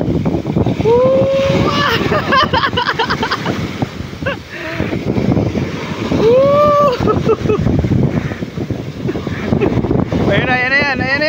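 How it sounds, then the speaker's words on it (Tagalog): Strong ocean waves surge and break at Pasakaw beach under gusting wind that buffets the microphone, a loud, rough wash running throughout while excited voices shout and cheer over it. "Lakas ng alon dito guys sa Pasakaw guys"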